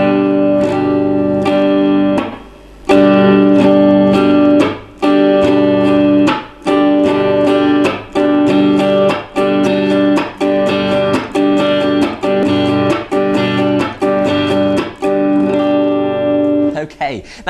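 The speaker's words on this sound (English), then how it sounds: "So when we put that into the strumming pattern, we're going to go down," Electric guitar strummed in a pattern of down, up, muted chop and up strokes, loud and processed with effects, repeating in a steady rhythmic cycle with short gaps between muted hits.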